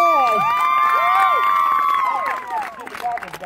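Rodeo crowd in Troy, Kansas cheering and shouting loudly, with children's high voices and some clapping mixed in, dense and close, fading somewhat toward the end.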